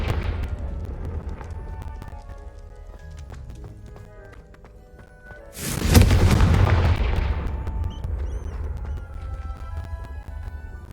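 A Confringo fire spell explodes in Hogwarts Legacy as a loud, sudden broadband blast, with a burst and sizzling tail that decays over several seconds above a steady game music bed.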